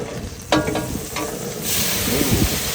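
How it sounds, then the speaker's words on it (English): Butter melting and sizzling in a pan to sauté fiddleheads crackles close and moderately loud, swelling into a fuller hiss partway through with a few scraping stirs. "we're gonna saute up some fiddleheads. Be right back. All right, we got the butter in there."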